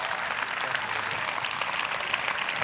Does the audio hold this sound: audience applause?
yes